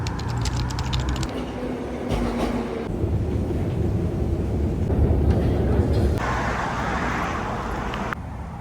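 A metro subway train rolls along with a dense, continuous rumble and rattling roar, and sharp shifts in tone mark track changes and a high squeal near the end. Faint talk may sit under the noise.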